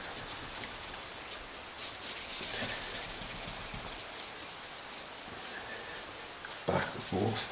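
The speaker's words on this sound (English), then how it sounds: "And a bit of fine wire wool." Fine wire wool rubbed back and forth over the metal of a Kirby G6 vacuum cleaner that was stored for 18 years, a close, steady scratchy scrubbing that ends in a few sharper scrapes, with no talk.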